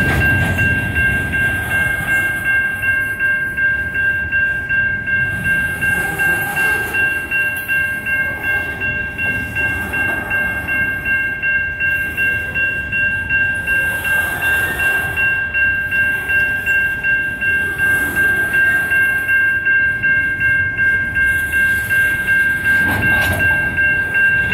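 BNSF locomotive 6279 hauls a coal train through Effingham, its cars rumbling and clacking past in a loud, continuous roll that stays steady throughout, with no voices.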